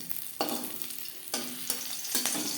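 Whole cumin seeds and three slit green chillies frying in oil for a pea-greens dish, a low continuous sizzle punctuated by several sharp scraping stirs at intervals, close and quiet, with no talking.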